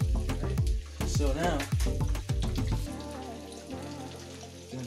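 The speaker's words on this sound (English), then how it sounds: "as this is frying up and cooking" Beef sizzles and fries in a pan with crackling pops, while a person talks briefly over the cooking.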